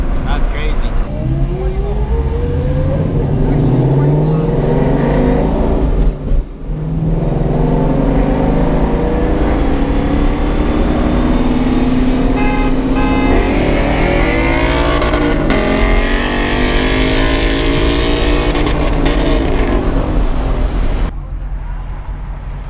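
A Lamborghini Gallardo V10 engine roars and revs repeatedly, pitch climbing with each acceleration, close and sustained, while people talk and shout over it.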